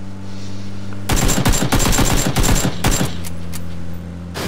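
Rapid automatic gunfire in the PUBG battle royale video game, a loud burst of closely spaced shots lasting about two seconds, then a few scattered single shots over a steady low hum.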